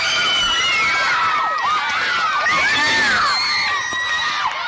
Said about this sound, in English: Absolutely wild screaming here.